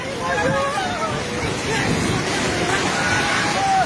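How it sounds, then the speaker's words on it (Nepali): A flooding river in Nepal rushes in a loud, constant roar of turbulent water close by, while alarmed voices shout over it. "खोला यहाँ भाग्यो भाग्यो भाग्यो"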